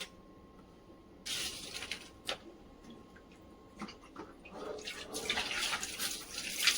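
Water from a tap splashes and runs over sliced potatoes being rinsed for potato wafers, coming in uneven bursts of splashing and trickling that grow louder toward the end.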